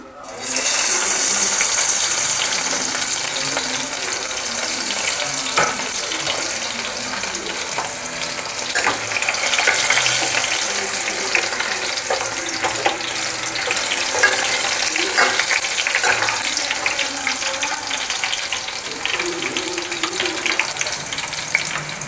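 Garlic, a whole large bulb, frying in a hot pan for chicken sukka, with a steady loud broadband sizzle and crackle throughout and occasional stirring clinks.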